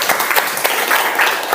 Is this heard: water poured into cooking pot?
no